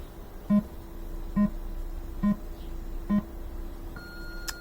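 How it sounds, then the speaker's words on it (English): Space Duel cocktail arcade machine in self-test reporting a RAM error: a series of short electronic beeps at an even pace over a low steady hum, then a final higher tone, with no talk. "So it's giving me 5 good beeps and 1 bad beep"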